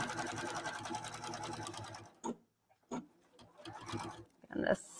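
A sewing machine stitches binding onto a quilt corner in a fast steady whir, stops, then restarts in short bursts with small clicks, with a voice talking over it.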